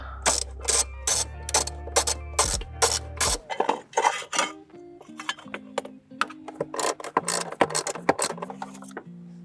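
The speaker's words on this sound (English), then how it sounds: "Now it's disconnected, we will remove our retainer brackets." A ratchet wrench clicks in quick repeated bursts while removing the battery retainer brackets on a Porsche Cayenne 955/957, close and loud, with pauses between the bursts and no talk.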